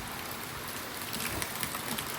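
Steady rain falls on a surface outside a home, a dense, even hiss of drops holding constant with no voices over it.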